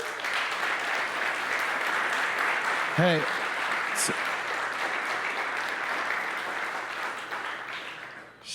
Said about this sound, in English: I don't know if they're clapping to get the fuck out of here or clapping because it was good.